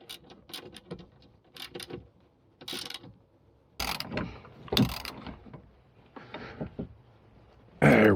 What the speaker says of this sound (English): Now, using a 14mm socket, I can tighten things down.